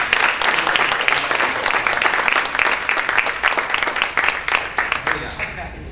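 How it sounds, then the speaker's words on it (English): A room of attendees at a spring awards and officer installation meeting gives a loud, dense round of applause, sustained clapping that thins out toward the end. "One more big round of applause for the hospice."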